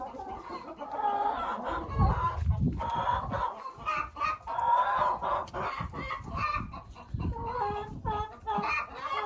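Chickens, including Araucana hens, cluck and murmur nearby in a coop, a busy overlapping chorus of calls with a voice speaking faintly underneath.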